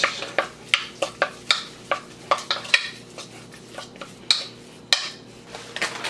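A beef stir fry is stirred in a pan, giving a rhythmic series of sharp utensil scrapes and clinks against the metal, close and distinct, with no talk.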